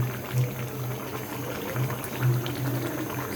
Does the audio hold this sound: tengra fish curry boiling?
yes